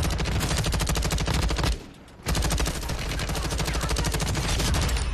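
Rapid automatic gunfire from the 5.5 Icarus gun in a video game, a loud, dense rattling burst that stops briefly for about half a second and then resumes, sustained and close.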